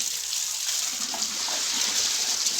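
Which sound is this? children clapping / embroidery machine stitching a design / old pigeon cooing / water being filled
water being filled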